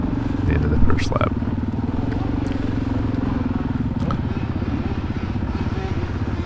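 A Suzuki DRZ400E dirt bike engine drones steadily at close range during a hare scramble cross-country race at Richardsville Rumble, with constant harmonic engine hum and occasional clatter and wind rush throughout.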